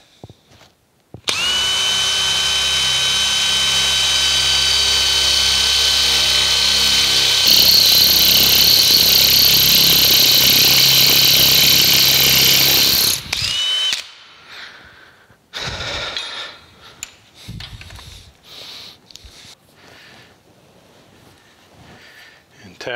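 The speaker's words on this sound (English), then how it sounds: "and drill and tap." A power drill whines loudly and steadily for about twelve seconds while drilling a hole in metal for tapping, shifting pitch midway, then stops; scattered clicks, scraping and brief handling noises follow.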